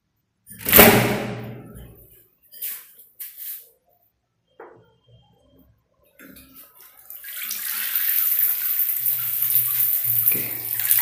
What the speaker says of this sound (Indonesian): sudah ngalir airnya